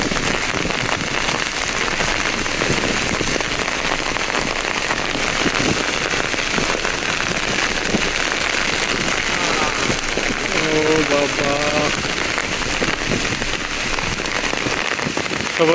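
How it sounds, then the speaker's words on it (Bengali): Heavy rain pours steadily during a fierce storm at a village fishing spot in Bogura, a dense continuous hiss of drops drumming on surfaces, loud and close throughout with faint voices beneath. "এত জোরে বৃষ্টি হচ্ছে"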